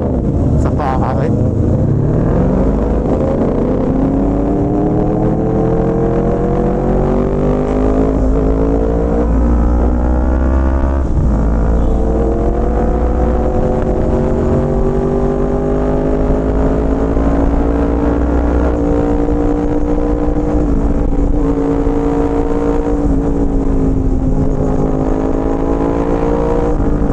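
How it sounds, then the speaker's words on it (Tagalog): A Yamaha MT-10 naked motorcycle engine, loud and close, holding a rough idle then climbing and easing through revs in long sustained pulls, with people talking over it. "Madunggan kay saba kaning motor sa MT-10."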